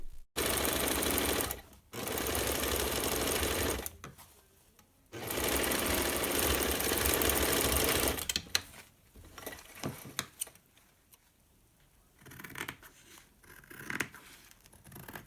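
A sewing machine stitches sterile wrap fabric for a face mask in loud, fast whirring bursts that start and stop, broken by quiet gaps with faint handling and rustling.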